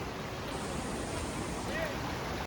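Water of a waterfall stream near Coimbatore rushes in a steady, broadband roar, continuous and fairly close throughout, with a faint brief tone near the end.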